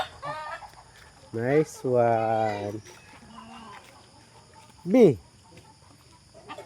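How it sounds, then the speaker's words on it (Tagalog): Chickens clucking in a farmyard among coconut trees, with several loud harmonic squawks and clucks in short bursts, one sharp call near the end, and people talking nearby. "Maraming manok dito mga idol."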